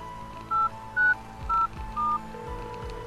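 A flip phone in a video game beeps out four short, clean dialing tones in steady succession over a low hum and faint background game sounds.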